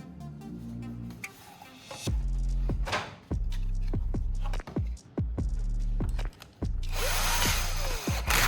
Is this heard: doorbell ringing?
no